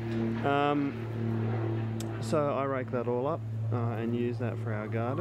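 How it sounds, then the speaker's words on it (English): A low, steady engine drone hums in the background from an aeroplane passing overhead in a town, while someone talks over it. "there's an aeroplane going over the top"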